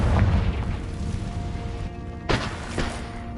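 A Confringo spell blast in Hogwarts Legacy, a booming fiery explosion with a rumbling tail and a second sharp burst near the end, loud over continuous game ambience.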